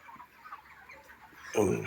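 Broiler chickens in a poultry farm shed give a short burst of clucking toward the end, heard close after a stretch of quiet house ambience.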